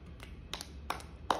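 A handful of light, spaced hand claps imitating a seal, four or five soft close taps in an uneven rhythm over a quiet indoor background.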